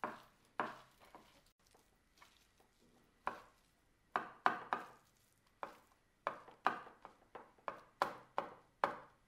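Knife chopping fresh cucumbers into sticks on a board for vegan Korean kimbap, irregular bursts of close, crisp cuts with short pauses between runs, no talking.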